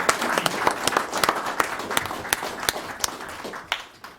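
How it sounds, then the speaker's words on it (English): Applause at a town council meeting in Freeport, with a small room of people clapping steadily at moderate loudness. Individual claps stand out in the mix, and the clapping slowly thins toward the end. "So big round of applause."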